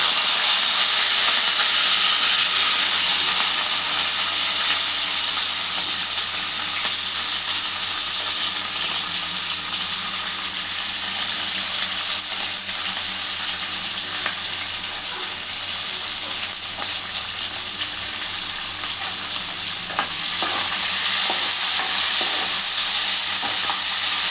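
Chopped onion, green chilies and curry leaves fry in oil in a pan for a macaroni pasta dish, giving a loud, steady sizzle and hiss that runs unbroken, with occasional stirring scrapes and a brief swell near the end.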